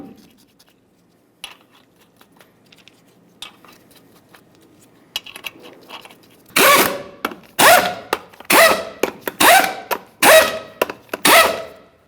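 Lug nuts on a 1996-2006 Chevrolet Silverado 1500 truck's wheels are tightened: faint clanks and taps give way to a string of about eight short, loud, close bursts in quick succession.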